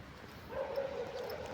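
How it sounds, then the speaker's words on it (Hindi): Dogs barking and yipping on a street in Delhi Cantonment, a short run of faint, somewhat distant barks over a low background rumble. "ये देखो कैसे भौंक रहे हैं"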